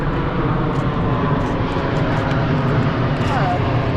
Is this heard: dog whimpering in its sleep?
no